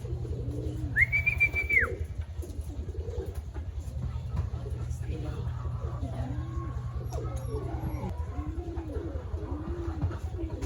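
Racing pigeons cooing softly and repeatedly at a loft after a 139 km derby lap, over a steady low hum, with a brief whistle near the start.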